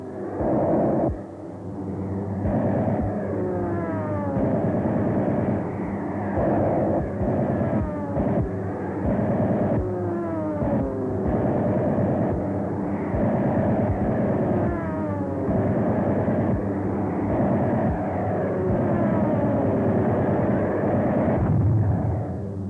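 Droning engines of WWII bombers in flight over the Aleutians during an attack on Japanese positions, a loud, continuous roar with shifting, wavering tones that runs steadily throughout and carries no voices.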